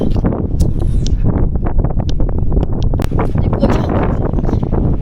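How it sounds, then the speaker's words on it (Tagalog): Steady outdoor wind by a lake in the Netherlands buffeting and roaring across the microphone, continuous and fairly loud, with faint voices underneath. "Hangin siya."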